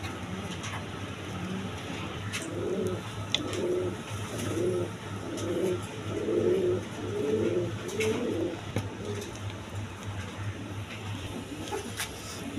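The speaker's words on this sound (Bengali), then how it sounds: "এখানে এক পেয়ার লাহোরি কবুতর আছে" A pair of big Lahori pigeons, male and female, coo in a steady run of low, rounded calls, close by over a constant mechanical hum and faint background noise.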